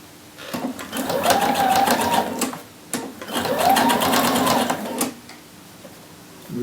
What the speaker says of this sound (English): You're going to be sewing over your existing basting at first, and we're basting within the seam allowance